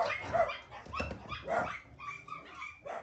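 Dogs at a dog kennel with West Highland terriers, corgis and beagles bark and whimper in several close, uneven bursts, yips overlapping one another.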